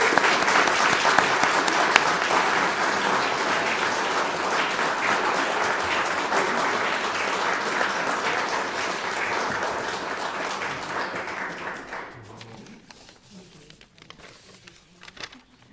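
A debate grand final audience gives a long, loud round of applause for the team, dense clapping that holds steady and then thins and fades out near the end.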